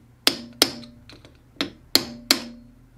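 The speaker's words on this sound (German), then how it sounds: "Jetzt kann man mal ganz vorsichtig mit dem Hammer und mit dem Schraubenzieher" Five sharp metallic taps, close and distinct, spaced unevenly with short ringing tails, a hammer striking a screwdriver during engine reassembly on a KTM SX 85 motocross bike.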